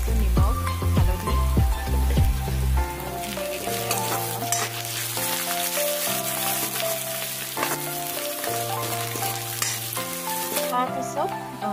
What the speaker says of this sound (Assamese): পিঁয়াজখিনি ধুনীয়াকৈ ভাজ খাই গৈছোঁ